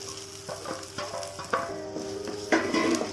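Sliced onions frying in a pan for potato gravy, a soft sizzle broken by periodic scraping stirs of a spoon against the pan, fairly close and quiet, no talk.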